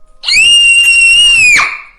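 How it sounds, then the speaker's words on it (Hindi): A woman lets out a single sustained, piercing scream for horror-story effect, shrill and loud, holding steady for over a second before breaking off, alone without other sounds. "तभी किसी ने उसके कंधे पर हाथ रखा और वो चीख पड़ी।"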